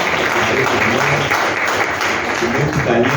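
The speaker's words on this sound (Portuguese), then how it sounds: "Vamos aplaudir Jesus pela vida da senhora" Church congregation at a Pentecost festival and ministry anniversary service applauds, a loud, dense, sustained wash of clapping with no break.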